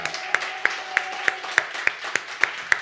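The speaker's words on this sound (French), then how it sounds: "On peut applaudir." An audience at a live comedy radio broadcast claps in a steady, rhythmic unison, with about nine evenly spaced sharp beats over a faint background hum.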